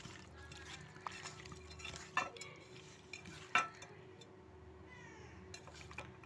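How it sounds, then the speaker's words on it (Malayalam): Cleaned anchovies are stirred into masala for a fish fry: soft, quiet mixing with a few sharp utensil clinks against the pan amid low background hiss. "ഇതെല്ലാം കഴുകി വൃത്തിയാക്കി വെച്ച നെത്തോലി അതിലേക്ക് ഇട്ടിട്ട് നന്നായിട്ടൊന്ന് മിക്സ് ചെയ്തിട്ട്"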